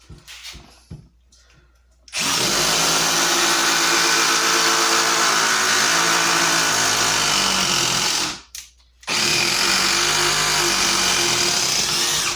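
A hydraulic impact driver driving fasteners, a loud continuous buzzing hammer-drone running for several seconds, then stopping briefly and starting again, close up.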